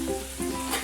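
Curry leaves sizzling in hot oil with cumin, mustard seeds and crushed garlic for a home-style okra masala: a brief, steady, close crackling hiss with no voices.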